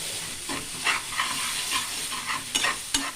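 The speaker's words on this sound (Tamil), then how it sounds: "நல்லா வதக்கணும் அதை நல்லா வந்து கொஞ்சம் வதங்கிட்ட சுருண்டு வரட்டும்" Pumpkin sizzles and sautés in a pan for payasam, with a steady frying hiss under repeated close scraping and stirring strokes.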